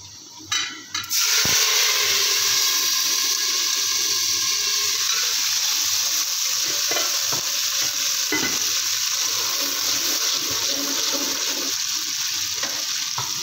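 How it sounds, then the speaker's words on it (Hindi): Water poured into a hot pan of browned cumin seeds on a low flame erupts into a loud hiss and sizzle after a brief clatter, settling into steady bubbling frying noise. "अब मैं इसमें ऐड कर रही हूँ, लो फ्लेम करके बिल्कुल इसमें ऐड करूँगी पानी।"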